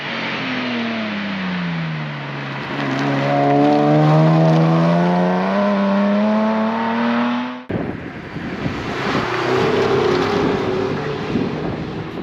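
A 1994 Toyota Celica GT 2.0-litre 16-valve four-cylinder or a Ford Probe 2.5-litre V6 revs hard under acceleration toward 7000 rpm, its engine note climbing loudly, then an abrupt cut to a rougher steady engine drone.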